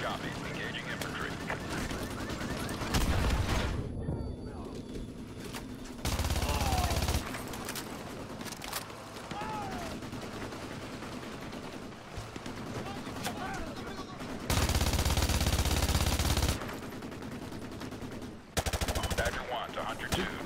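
Call of Duty Modern Warfare 2 Remastered campaign firefight: bursts of machine-gun and rifle fire, some loud and close, others distant, broken up by quieter stretches with radio chatter.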